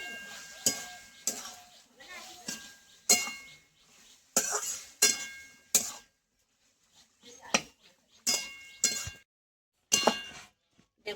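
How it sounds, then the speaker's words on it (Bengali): Spoon stirring egg and greens curry (dimer shaker chorchori) in a cooking pan, a series of close scraping clinks and soft sizzles in irregular bursts with pauses between. "দিয়ে আমি এবার একটু নেড়ে চেড়ে নেব।"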